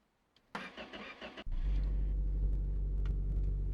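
A video-game car cranks briefly after refuelling, then its engine catches and settles into a loud, steady low idle rumble.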